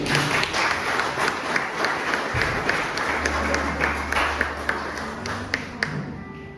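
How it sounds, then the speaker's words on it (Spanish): Applause from a church congregation, steady and dense with some sharper individual claps standing out, a low hum beneath. "¿Por qué no le damos un aplauso a ellos?"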